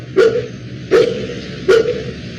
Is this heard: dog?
yes